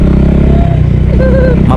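Motorcycle engines rumble loudly and close by, with rough clattering as they ride over a bumpy rough road.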